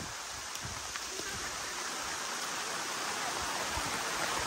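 Rain falls in a steady, faint wash of broadband hiss, with a few soft drop taps near the microphone and no voices.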